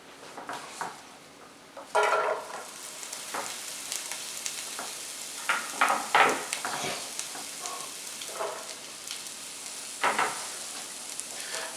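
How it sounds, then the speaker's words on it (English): Vegetables dropped into warm olive oil start sautéing with a bursting sizzle, followed by intermittent crackles and scraping stirs in a pan, close and fairly loud, with no talking. "So I got my olive oil kind of warming up right now. I'm gonna drop my vegetables in here."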